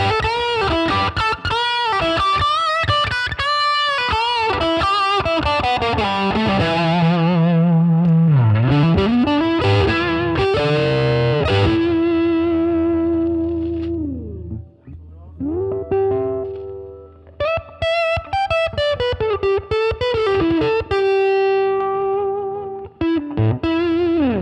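Distorted electric guitar played through a Marshall DSL1CR 1-watt valve amp, a loud, continuous run of sustained bent notes and chords, with melodic lines and a brief pause near the middle before riffing resumes.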